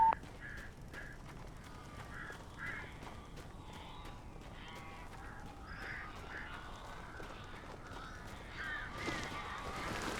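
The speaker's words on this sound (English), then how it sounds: "These birds are weird." Crows in the Alan Wake video game caw repeatedly at middle distance in a steady series of harsh calls over a low ambient background.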